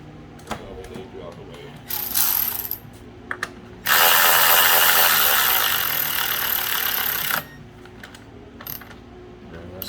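A ratchet tightens down a part during spark plug replacement on a 2012 Cadillac SRX4 3.6L, with a short burst of rapid clicking, then a longer continuous run of clicking lasting several seconds, plus scattered handling clicks around it.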